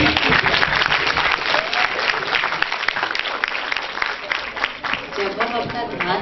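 Sustained audience applause fills the whole stretch, a dense, loud wash of many hands clapping at a steady level with no pauses, at a students' motivational talk.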